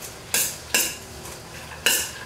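A chopped salad with dressing being stirred in a big mixing bowl, making three or four distinct scraping, tossing sweeps with short pauses between them, close and fairly loud with no talking.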